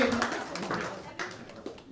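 A comedy club crowd claps in a loose, uneven patter while a voice speaks over it, with soft laughter here and there and a few louder bursts of claps at moderate level.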